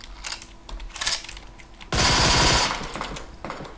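Rapid automatic gunfire in PUBG Mobile: scattered shots first, then a dense, loud burst of rapid fire lasting about a second, with more shots fading afterward.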